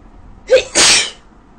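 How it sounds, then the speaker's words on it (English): A single sharp sneeze, loud and close, with a brief intake just before the main burst, and no talking. "I'm like sneezing in the camera"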